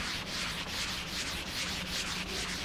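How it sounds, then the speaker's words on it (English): Sandpaper rubbing over a pine cornhole board, a steady scratchy hiss in quick rhythmic strokes, close and alone with no speech. "You'll hit this with the sandpaper."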